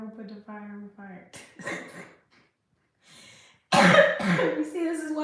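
A person coughs several times in quick bursts after laughing, the coughs close and breathy, broken by a short pause before a louder final fit.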